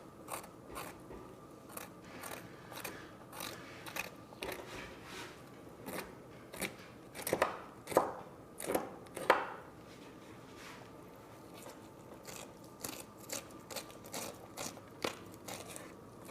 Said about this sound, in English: I'm keeping this fish skin as straight as I can, like I'm cutting flat to it.